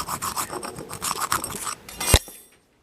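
Rhythmic rasping strokes of a tool cutting out a bushing in a 4L80E transmission on a carpeted concrete basement floor, steady and close for about two seconds, ending in a sharp metallic knock before falling silent.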